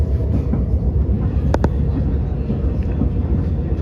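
Elizabeth line train pulling into West Ealing station in London, heard from inside the carriage: a steady, loud rumble with a brief high squeal partway through.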